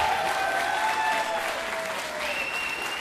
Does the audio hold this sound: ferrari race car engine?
no